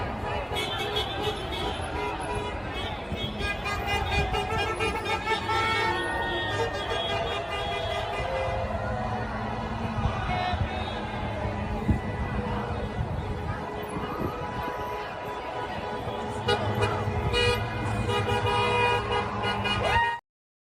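Car horns honk repeatedly at a protest in Indianapolis, short toots and longer blasts layered over steady traffic rumble and crowd noise, with voices audible under the din throughout.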